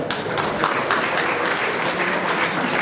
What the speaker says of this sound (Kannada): ಸೊ ಅವರಿಗೆ ಒಂದು ಸ್ವಾಗತ ಬಯಸಿ ಚಪ್ಪಾಳೆ ಮುಖಾಂತರ